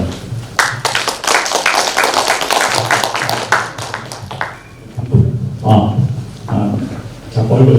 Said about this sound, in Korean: 그래서 큰 박수를 맞아주시기 바랍니다.